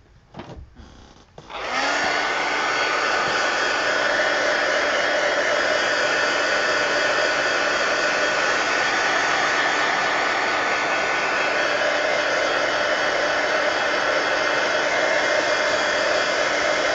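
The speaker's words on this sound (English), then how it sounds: "And I'm going to hit it with the heat gun." Heat gun blowing steadily on cardstock for a paper book base, a loud, continuous broadband whoosh starting after a couple of brief clicks and holding unchanged to the end.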